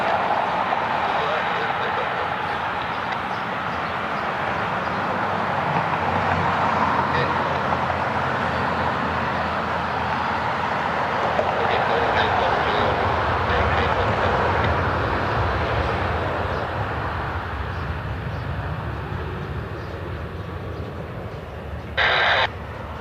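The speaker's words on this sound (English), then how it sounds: "Southwest is taxiing out." A Southwest airliner taxis out at Cleveland Hopkins airport, a steady, broad jet-engine roar and rumble holding evenly in the distance for a long stretch, with a brief sharper sound near the end.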